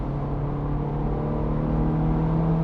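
A Ferrari F430 Berlinetta F1 coupe's engine drones in a low, steady hum heard from inside the car, with a slight rise in level toward the end, and no one speaks.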